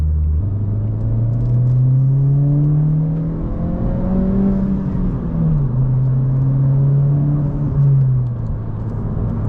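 A car engine revs and holds a steady, droning pitch that rises, dips and settles again, loud and close with no talk, the revs hanging between changes.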